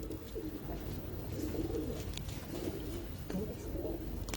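Pigeons coo in soft, repeated throaty phrases close by in a loft, alongside a voice and a low, steady background hum.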